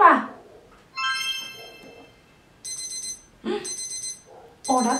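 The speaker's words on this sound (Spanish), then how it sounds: "Esto es un despertador." An alarm clock rings in several short, shrill bursts separated by brief pauses, starting after a short vocal sound.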